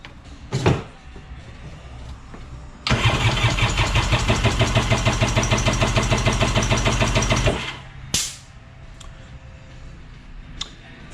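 Kawasaki 750SS two-stroke motorcycle engine fouled with too much oil, cranking with a few sputters, then catching into a loud, steady pulsing rev for several seconds before cutting out, followed by a sharp clack, close by.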